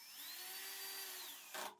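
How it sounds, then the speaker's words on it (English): A power drill fitted with a countersink bit bores into a wooden upright of a compressor cart. It gives one quiet, sustained whine that rises and falls in pitch, followed by a brief louder burst as the bit breaks through. "Use a countersink bit to drill a hole at each mark."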